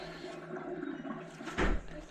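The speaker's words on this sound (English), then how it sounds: "You can hear it pouring into the sewer out in the street." Freed sewage water from a cleared main line stoppage pours into a street sewer, a faint, steady rushing trickle heard from a distance with a brief swell near the end.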